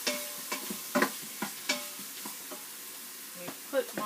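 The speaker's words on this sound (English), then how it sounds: "So now, the butter and the garlic, we're going to let that cook." Butter and garlic cook in a Quick Cooker with a soft, low sizzle, broken by several sharp stirring scrapes and clinks spaced irregularly, close by and with no talking.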